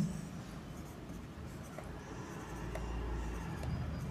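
Pen or chalk writing by hand during a physics lesson, a faint steady scratching under a constant low background hum, with no speech.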